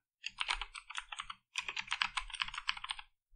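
A name is typed on a computer keyboard in two quick bursts of close, crisp key clicks, separated by a brief pause, with no talking.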